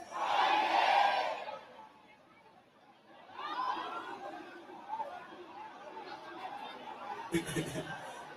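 A contest audience shouts and cheers loudly at first while voting for a female winner, then quieter chatter and scattered calls rise again, with a sharp burst near the end.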